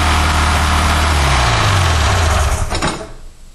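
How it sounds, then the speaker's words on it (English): A Mikuni-carbureted snowmobile engine idles fast and steady after an idle screw adjustment, its close, loud drone holding even with a low pitch sweep before tapering off near the end. "So I started it up and it still seems to be running a little bit faster than it should."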